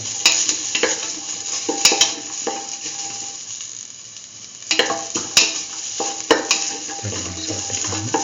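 Garlic sizzles in a hot pan while a utensil stirs and scrapes against the metal in several loud bursts, with quieter frying between strokes and no talking.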